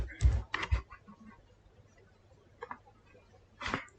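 Keys on a computer keyboard clatter in short bursts as an email address is typed, several quick clicks up front, then sparse taps and a final burst, under a faint voice.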